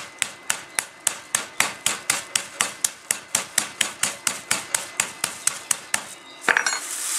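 A meat mallet pounds lamb cutlets flat on a board in a kitchen, giving about two dozen sharp, evenly spaced knocks in a quick steady rhythm, followed by a brief clatter at the end.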